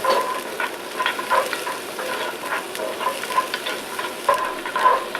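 Onion sautéing in a hot Dutch oven for tomato soup, a steady close sizzle with soft scattered crackles and occasional light stirring, no voices.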